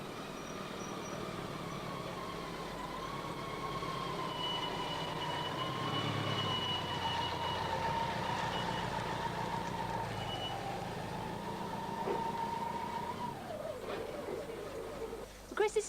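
A quarter-scale model of a circa 1900–1905 Borrell agricultural ploughing engine runs steadily close by, a continuous mechanical hum with a sustained whine, fading near the end; people talk over it.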